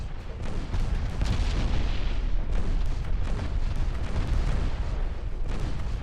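Heavy naval gunfire in the video game Ultimate Admiral Dreadnoughts, an old battleship's big guns booming repeatedly, deep dense blasts rolling into one another in a loud, continuous barrage.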